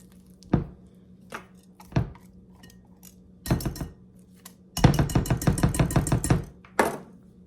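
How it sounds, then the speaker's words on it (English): Bacon potato puff batter being mixed in a bowl, with bursts of utensil scraping and clinking against the bowl, sparse at first and then a dense, rapid stretch of stirring near the end, close and fairly loud with no talk. "Gonna give that a good mix."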